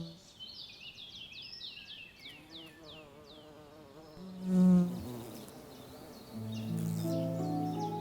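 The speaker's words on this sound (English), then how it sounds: "The long-horned bees head straight for the tall spikes of the tufted vetch." Long-horned bees buzz around violet spikes of tufted vetch in a spring meadow, faint and intermittent, with birdsong chirps, a brief louder burst midway and soft droning toward the end.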